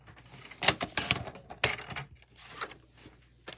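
Colored cardstock in a mauve shade is sliced on a paper trimmer, giving several short, sharp cutting swishes and clicks close by in a quiet room, with no one speaking.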